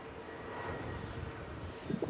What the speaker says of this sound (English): we finish on this Qatar A350 as it just vacates the runway